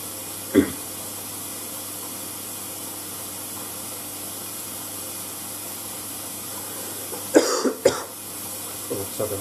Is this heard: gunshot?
no